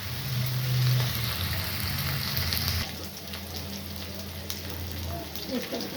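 Close sizzling and crackling of potatoes frying in a pan, with a low hum early on that drops away, the frying continuing steadily.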